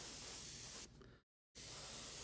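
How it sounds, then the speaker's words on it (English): Aerosol spray paint applied from above onto a miniature model, a steady loud hiss that cuts off briefly partway through, leaves a short silence, then resumes at full strength. "I'm using more of a top-down spray"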